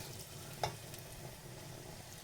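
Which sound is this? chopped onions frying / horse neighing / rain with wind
chopped onions frying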